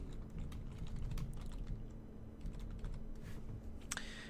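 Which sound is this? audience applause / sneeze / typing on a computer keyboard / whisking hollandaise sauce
typing on a computer keyboard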